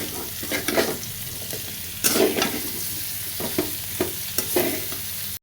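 Food sautés in a pan with spice paste, a soft sizzle broken by repeated stirring strokes and scrapes of a spoon, close and moderately loud with no talking.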